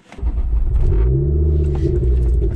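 A 400 bhp Ford Focus RS engine rumbles loudly up close as the car pulls away, a deep steady growl rising slightly in pitch and holding strong, with no talking.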